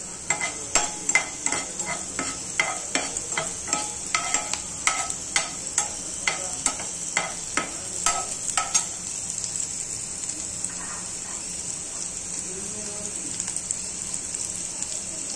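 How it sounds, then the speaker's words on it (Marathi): Green chillies frying in ghee for sabudana khichdi, with a steady sizzle under repeated sharp clicks of a spatula against the pan for the first half, then a softer continuous frying hiss. "त्याच्यामध्ये आहे ना तूप टाकलेलं आहे आणि हिरवी मिरची फ्राय करायला ठेवली."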